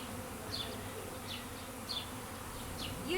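Honey bees buzzing around an open hive, a soft steady hum with individual bees passing close every half second or so, no voices.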